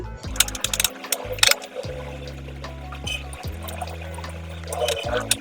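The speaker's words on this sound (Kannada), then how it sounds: "ಇದಕ್ಕೆ ಸ್ವಲ್ಪ ಉಪ್ಪು ಹಾಕಿ ನೀರು ಹಾಕಿ ಬ್ಯಾಟರ್ ರೆಡಿ ಮಾಡ್ಕೊಬೇಕು" Water is poured into a cutlet batter of salt and pepper powder for masala poha and millet cutlets, giving splashy pouring bursts over a steady, stop-start background hum.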